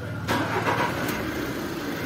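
A Volkswagen Polo with a pickup problem and an air leak starts up, its engine cranking and catching into a steady, close, loud idle rumble, heard alone without talk.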